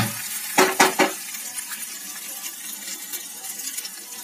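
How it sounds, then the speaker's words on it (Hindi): Green chillies hit hot oil in a pan for a qeema samosa filling, giving a few sharp clattering stirs up front followed by a soft, steady sizzle with small crackles. "अब इसमें डाल देंगे ये हरी मिर्च डाल देंगे। इसे अच्छी तरह से भूनेंगे।"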